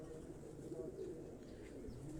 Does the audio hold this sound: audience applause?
no